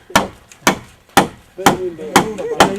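A hammer drives nails into wood with six sharp, loud blows at a fairly regular pace. The strikes are close and ring out briefly after each hit.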